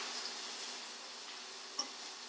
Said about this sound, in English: there's a nice sizzle going on here